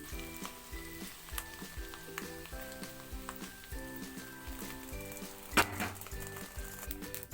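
Ground masala powder crackling and sizzling in hot oil as a tempering for jackfruit pickle, steady bubbling fry with faint clinks of a utensil and one sharper clatter near the end, close and fairly quiet.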